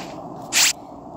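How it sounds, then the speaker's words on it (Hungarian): A single short, wet squelching burst like wringing a wet rag, bright and loud, rising out of a quiet background hiss and cutting off abruptly, in the video game Among Us. "egy vizes rongyot így megcsavarnánk, és kijönne belőle a víz, na hát olyasmi a hangja"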